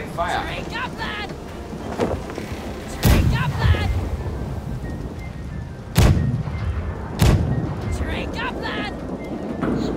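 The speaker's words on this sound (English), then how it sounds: "Cannons, long distance shooting," Ship cannons in the naval game Blackwake boom in heavy distant blasts at about 3, 6 and 7 seconds over a rumbling, busy battle scene with voices talking throughout.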